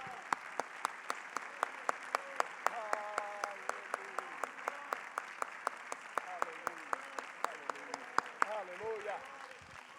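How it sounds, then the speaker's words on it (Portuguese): A church congregation claps through a Portuguese-language service, sparse and loosely rhythmic claps at moderate distance, with voices speaking and murmuring faintly underneath. "dar uma salva de palmas à palavra do Senhor"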